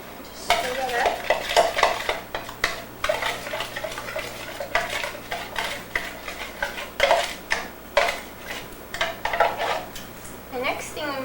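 Cornstarch being stirred into a sauce, a rhythmic series of close spoon scrapes and clinks against the pot, repeated steadily with a faint sizzle underneath and no talking.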